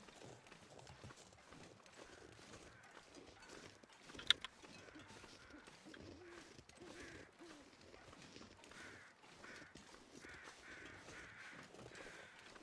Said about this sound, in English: Where are these birds? Oh, they're flying over.